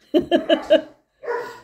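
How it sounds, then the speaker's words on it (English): Dogs bark four times in a quick run, fairly loud and close, then after a short pause comes a longer, whinier bark. "please excuse the dogs, they're having one of those days"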